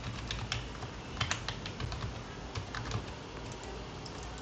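Quiet keystrokes tap on a computer keyboard as an email address is typed, coming in irregular bursts of soft clicks, with a faint pigeon cooing in the background and no voices.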